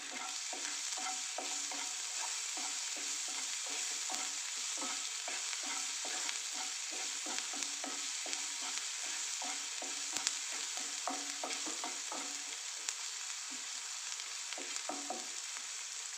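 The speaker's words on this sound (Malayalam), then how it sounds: "എന്നിട്ടൊന്നും കൂടി ഒന്ന് ഇളക്കി കൊടുക്കാം" A spatula repeatedly stirs an ivy gourd and onion stir-fry in a pan, with steady scraping and soft sizzling continuing throughout at a close, even level, with no voices.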